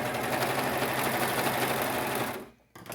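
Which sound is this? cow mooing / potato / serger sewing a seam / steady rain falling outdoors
serger sewing a seam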